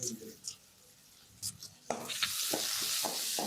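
Garlic and ground onion hit hot oil, quiet handling sounds for two seconds before a sudden loud sizzle takes over and holds steady with stirring scrapes, close by.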